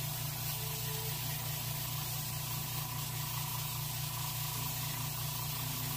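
Base coat sealer sprayed from a can onto reproduction rainbow trout makes a steady, unbroken hiss that stays at an even, moderate loudness throughout with no pauses and no voices.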